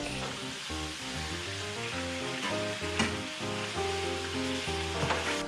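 Meat browns in a pan with a steady, close crackling sizzle for empanacos, while background music with a bass line and melody plays underneath.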